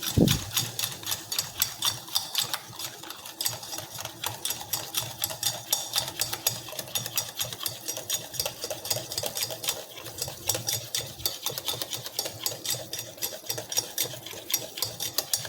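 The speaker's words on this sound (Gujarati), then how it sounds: "ઈનો ઉમેરીને આપણે અહીંયા 1 ચમચી જેટલું પાણી નાખીશું। ત્યારબાદ આપણે બધું મિક્સ કરી લઈશું।" Jalebi batter mixed with Eno and water in a bowl: rapid, steady rhythmic tapping and scraping of a spoon whisking against the bowl, close and continuous without talk.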